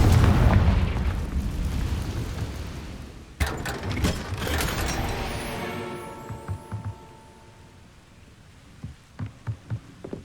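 Confringo fire spell explosion in the Hogwarts Legacy game: a loud, rumbling blast fades over a few seconds, followed by a sharp crack and ringing, sparkling tones, then several soft pops near the end.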